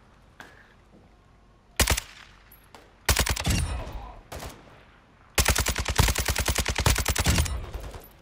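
Automatic rifle fire in Call of Duty: Modern Warfare II DMZ, a few single shots and short bursts before a long rapid stream of rounds, close and loud, with faint talk in the background.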